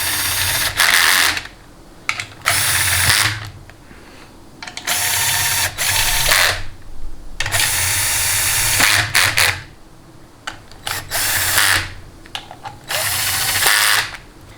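Low-power impact driver, rated at only 71 inch-pounds, tightening bolts on a 6L80 automatic transmission during rebuild assembly: repeated loud bursts of rattling hammering, each lasting one to two seconds, separated by short pauses, close up with no talking.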